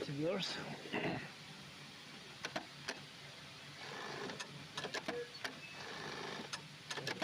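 Yamato CM-364 blind hem sewing machine starting up and running, a low mechanical hum with sharp clicks and taps, heard close amid a quiet workshop, while a person speaks in short bursts over it.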